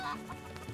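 Chickens clucking in the video game Final Fantasy XVI, a few short clucks close by over a steady in-game ambient bed, with no talking.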